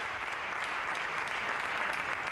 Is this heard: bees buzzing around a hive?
no